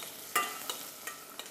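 Onions, beetroot, apple and pear sweating together in a pan, giving a soft steady sizzle with four distinct stirring scrapes spaced evenly across the moment, close and fairly quiet with no talking.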